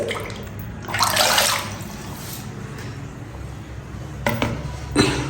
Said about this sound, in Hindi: ये अपने हाथ ऐसे धोता है